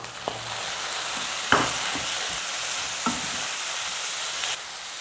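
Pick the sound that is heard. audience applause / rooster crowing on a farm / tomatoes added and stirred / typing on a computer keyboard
tomatoes added and stirred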